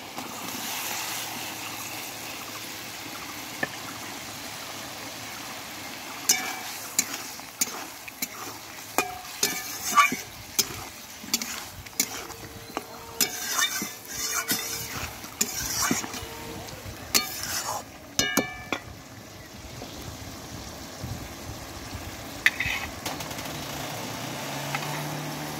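Fried pointed gourd and potato pieces go into a pan of oily curry, followed by a run of soft scrapes, clatters and stirring knocks with a low simmering sizzle underneath, close and moderately loud.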